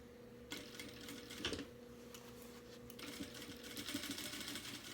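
A sewing machine stitches fabric around an edge at a slow, steady pace, its rapid mechanical whir and needle clatter running continuously and close, with faint ticks and no talk.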